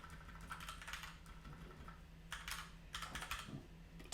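Typing on a computer keyboard comes in quick irregular bursts of soft clicking keystrokes, close but quiet, with short pauses between runs and a faint hum underneath.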